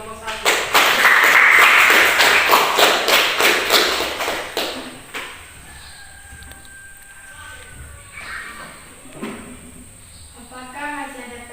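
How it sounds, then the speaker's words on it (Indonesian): A classroom bursts into dense applause for the first student group, a loud burst of clapping for about five seconds that then fades to quiet room murmurs. "tepuk tangan untuk kelompok 1"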